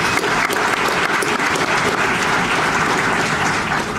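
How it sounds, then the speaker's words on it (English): Sustained audience applause at an evening awards dinner, dense steady clapping from a large crowd filling the room at even loudness throughout, with no voices over it. "So, round of applause for Danielle."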